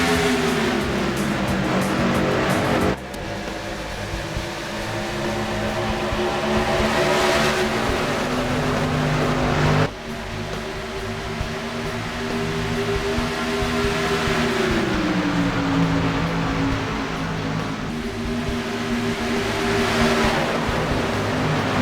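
Engines of a field of stock cars in a sim racing game at Atlanta Motor Speedway roar loudly as they accelerate from the green flag, pitch climbing and shifting through gears, with abrupt cuts between camera views.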